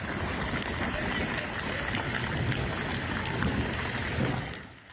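Floodwater flows through the streets of Zile, Tokat, Turkey after heavy rain, a continuous loud rushing, gurgling wash with no breaks.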